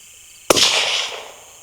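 A single rifle shot fired at a hedge apple outdoors, one sharp loud crack followed by a short fading echo.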